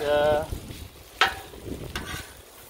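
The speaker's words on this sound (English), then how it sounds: "this is just the finish to get a little bit of the sear, some flavor" Pulled pork from a small pork butt searing on a hot Blackstone griddle: steady close sizzle with scraping spatula strokes and brief clanks of the spatula against the griddle top.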